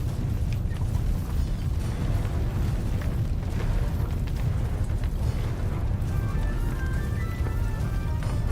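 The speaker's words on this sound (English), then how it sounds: "Cannons." Cannons boom in a video game, heavy low rumbling blasts rolling continuously and loud without clear separate shots, with no talk over them.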